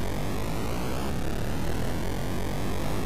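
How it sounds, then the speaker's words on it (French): The car engine in the Atari 2600 game Enduro gives a constant, buzzy, noise-like drone that holds steady at the same loudness throughout without pause. "Le bruit du moteur est pas trop mal par contre."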